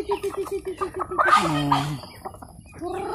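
Free-range chickens clucking nearby, a rapid run of even clucks followed by a drawn-out rising cackle, with more clucks after and a voice talking underneath.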